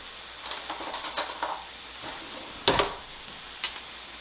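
Flour being stirred into hot fat in a pan to make a roux for shepherd's pie gives soft sizzling with scraping spoon strokes and a few sharper clinks against the pan, close and quiet.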